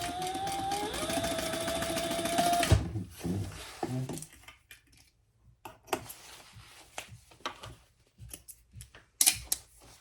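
A sewing machine top stitching a cork fabric bag hums steadily for a few seconds and then stops, leaving scattered close handling clicks and rustles of the cork material.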